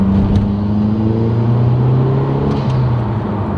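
A car fitted with a Corksport exhaust revving gently, a close, loud low grumble that rises and holds steady across a few seconds, with no voices over it.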